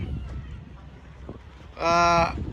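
A single loud, drawn-out cow moo rises over a background murmur of people and noise at the Postogola cattle market in Old Dhaka.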